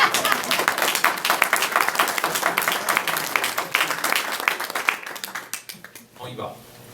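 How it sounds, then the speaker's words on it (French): Audience applause for candidates at a Gatineau election debate, a dense burst of steady clapping filling the room for several seconds before tapering off, with a voice starting to speak as it fades. "On peut les applaudir, mais c'est la seule fois"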